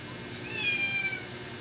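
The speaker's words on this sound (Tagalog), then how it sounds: "Oh, tinatawag ng miming ko." A female cat calls out with one drawn-out meow, close and clear over a low background rumble.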